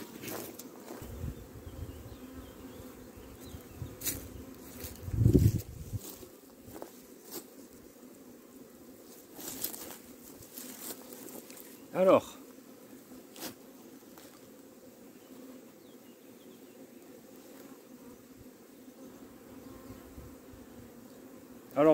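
Large honey bee swarm buzzing at an apiary, a continuous dense drone heard close, with a few brief louder knocks and handling noises on top.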